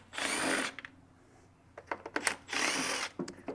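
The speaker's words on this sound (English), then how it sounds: "So you're going to go ahead and take these screws out." A cordless drill or driver backs screws out of the fuel tank of a STIHL BR 600/700 backpack blower, sounding as two whirring bursts of about a second each with small clicks and handling noise between them.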